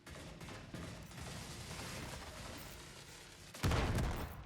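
Grenade blasts and gunfire crackle through a video game firefight, a busy stretch of shots followed by a louder, booming burst near the end.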